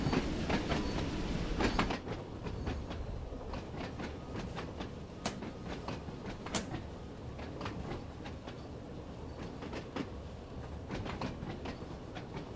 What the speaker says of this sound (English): train wants to run away from me a little bit.